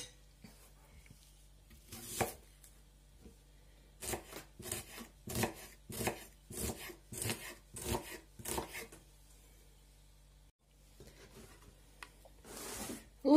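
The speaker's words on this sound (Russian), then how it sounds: "Следующий слой, это будет вот луковица. Мелко порезано." A knife finely chops onion on a board, about a dozen crisp, evenly spaced taps close by in a quiet room, with a short pause before a final cut.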